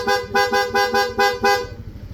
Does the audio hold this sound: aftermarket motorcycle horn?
yes